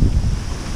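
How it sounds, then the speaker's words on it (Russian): Strong gusting wind buffets the microphone during a storm on a lake, a loud, steady low roar with no pauses and no voices. "Начался шторм, конкретный, ветрище"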